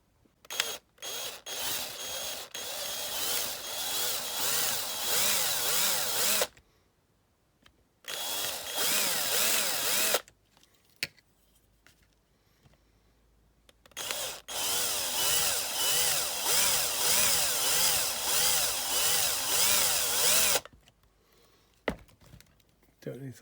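A power drill bores out the rivets of a Matchbox die-cast Airbus A300B model. Several loud, close bursts of whining drilling are separated by short quiet pauses and brief clicks.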